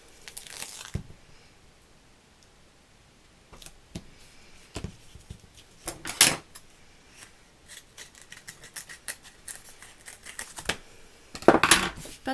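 Scissors snipping through double-sided tape for a Christmas scrapbook album, several short crisp cuts and crinkly tape handling spread over the quiet room, close and intermittent.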